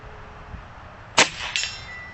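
An Oneleaf Commander NV400 air rifle fires slugs at a target, a single sharp crack followed a moment later by a fainter metallic clang of impact, close and loud against quiet outdoor background.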